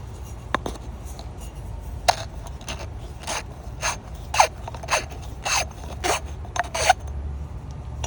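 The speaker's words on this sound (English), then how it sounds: "I have one of these things, it's a reamer. You grab it, you ream it." A handheld reamer scraping and twisting inside the cut end of a sprinkler pipe during a garden sprinkler valve replacement, heard as a string of short, sharp rasping scrapes at an irregular pace over a low outdoor background hum.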